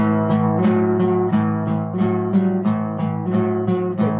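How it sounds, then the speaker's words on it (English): An electric guitar plays a shuffle in an even, rigid chugging rhythm of repeated chords in straight eighth notes, clear and close, with no voices. "If I played the shuffle with straight eighth notes, it would sound like this"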